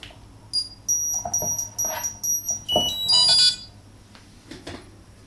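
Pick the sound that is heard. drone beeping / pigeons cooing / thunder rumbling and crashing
drone beeping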